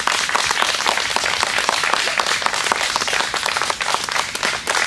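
An outdoor audience at a groundbreaking ceremony for a zoo renovation in Grimmen, Germany, clapping: dense, loud, sustained applause from many hands, steady throughout with no voices standing out.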